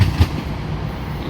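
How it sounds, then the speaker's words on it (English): A DART light rail train pulls into a station in Dallas, a low continuous rumble opening with two heavy thumps, steady and moderately loud. "That D.A.R.T train is pulling in to the station right there."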